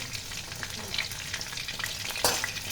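Fish fries in a pan over a low flame, nearly done, giving a continuous close crackling sizzle dotted with small pops and one sharper spit.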